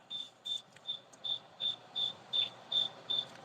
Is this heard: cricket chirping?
yes